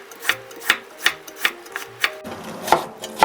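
Knife finely julienning carrot on a cutting board as a kimchi garnish, eight or so crisp evenly spaced chops close up, with no talking.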